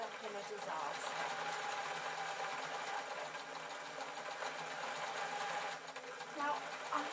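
A sewing machine stitching felt fabric on a large stitch hums steadily and close, a fast even needle whir running continuously for several seconds.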